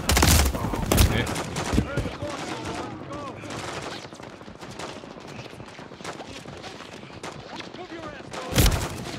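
Dense gunfire in the Call of Duty Modern Warfare III (2023) campaign at the Zordaya Prison Complex: loud sustained bursts and overlapping shots, heaviest at the start and again near the end, with a voice speaking over it.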